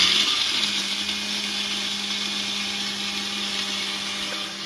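An electric blender whirs steadily while mixing a protein shake, its motor a loud, even drone with a constant hum that holds for the whole stretch, with no talk over it.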